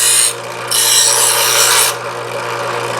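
A kitchen knife drawn through the slots of a Chef's Choice Trizor XV electric edge sharpener, giving two loud, close gritty rasping pulls back to back over the steady hum of the sharpener's motor.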